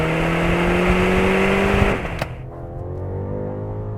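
A 2024 BMW X6 M60i with its 4.4-litre twin-turbo V8 and 48-volt mild hybrid launches hard, a loud steady engine drone rising before an abrupt shift cut and a quieter, lower hum afterward.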